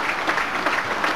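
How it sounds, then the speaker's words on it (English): Supporters at a 1997/98 Plymouth Argyle versus Walsall football match applaud after a goal, giving steady, dense clapping from a large crowd that continues without pause. "Argyle deserve the emphatic applause they're getting from the club supporters"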